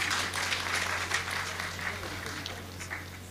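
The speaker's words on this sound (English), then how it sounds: "Please, a round of applause." Crowd applause at a university convocation ceremony fills the hall, a steady wash of clapping hands from many people, moderately loud and continuous throughout.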